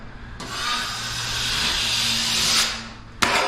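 A six-inch plastering knife drawn along a plasterboard joint during a second coat, giving a steady close rasping scrape for about three seconds, then a brief tap as the blade lifts off.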